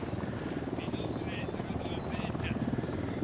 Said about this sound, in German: Da ist jetzt aber wieder ein Heli, ne?